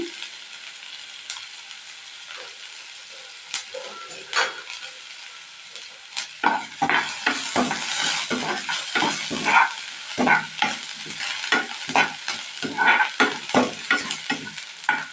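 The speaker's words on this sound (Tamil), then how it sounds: "ஒரு கொத்து கருவேப்பிலை போட்டுக்கலாங்க" Curry leaves frying in a pan for a turnip kuzhambu, first a quiet hiss, then crackling sizzles and repeated stirring scrapes that grow busier and louder through the second half.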